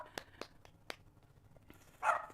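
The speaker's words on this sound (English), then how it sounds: "Listen to my dog bark." A dog barks indoors during a kettlebell workout with a few short, moderately distant barks spaced irregularly, followed by one louder, closer yelp at the end.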